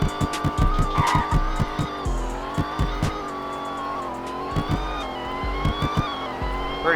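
A Charger in a Roblox racing game skids and accelerates, its tires squealing in repeated short bursts over a revving engine with gear-shift changes in pitch, loud and up close.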